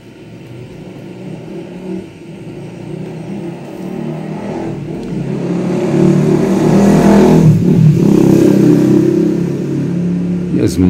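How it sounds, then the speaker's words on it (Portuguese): Motorcycle engines rumble and rev nearby, growing louder and peaking midway before easing slightly, with a steady mechanical drone throughout. "E as motos fazem barulho?"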